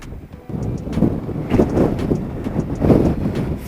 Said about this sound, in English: the wind is blowing so hard that it's tipping me over with the motorcycle.